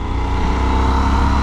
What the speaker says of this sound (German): jetzt wollen wir hier mal ein bisschen Gas geben